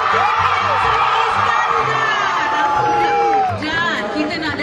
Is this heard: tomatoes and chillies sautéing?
no